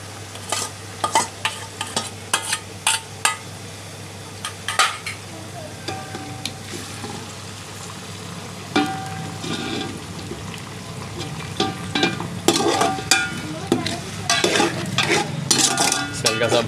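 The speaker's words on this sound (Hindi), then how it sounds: "हल्का सा भून लेंगे।" Tomato and coarsely crushed green chilies fry and sizzle in a pot for beef pulao while a spoon scrapes and stirs in repeated bursts, the scraping growing busier in the second half.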